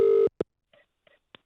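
Telephone dialing tones for a call to an 8-year-old nephew: one long steady tone, then a short beep and a few faint, brief tonal blips, spaced out and fairly quiet.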